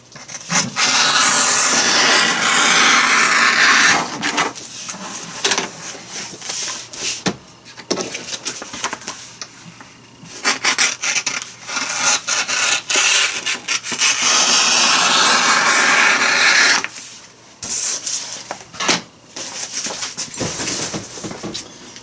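Wood for a sign is trimmed with a loud, close, harsh rasping cut that runs in long bursts, broken by short pauses and scattered knocks.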